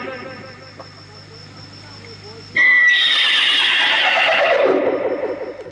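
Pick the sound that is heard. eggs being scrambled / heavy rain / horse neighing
horse neighing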